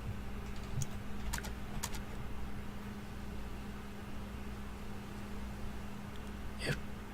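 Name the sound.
computer keyboard keys being pressed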